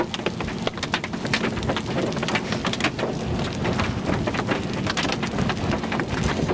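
Heavy rain pours steadily during a New Mexico thunderstorm with a big wet rear-flank downdraft, loud dense drumming on surfaces with gusty bursts and a low rumble underneath throughout.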